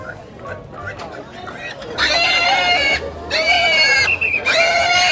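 Pigs, including sows, squeal and grunt loudly in several close, repeated bursts over a busy background of livestock noise on a farm.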